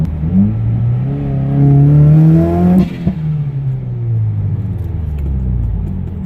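A Subaru WRX with a flex fuel tune accelerates hard, its engine note climbing steadily through a loud, close pull before a brief gearshift break, then rumbling on as revs rise again.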